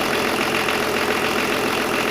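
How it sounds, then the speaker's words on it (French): BMW 324 engine idling with intermittent misfires, a steady close-up mechanical drone with a faint uneven pulsing throughout and no one speaking. "Elle a des ratés quand elle retombe en régime, quand on accélère franchement."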